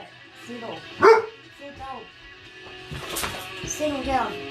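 A dog barks and yips several times nearby, one loud bark standing out early, while a person talks over and between the barks in a casual indoor setting.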